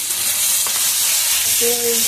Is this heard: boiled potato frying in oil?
yes